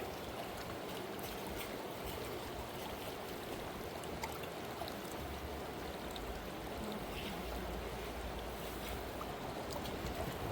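Fast-flowing stream water runs steadily and fairly close throughout at a glacial gold-prospecting spot, a continuous broadband rush with no voices.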